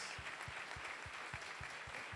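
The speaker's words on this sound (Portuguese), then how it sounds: "E vamos aplaudir Jesus." A church congregation at a pastors' ordination service claps in a steady rhythmic beat, about four claps per second, over a dense wash of scattered applause, fairly faint and distant.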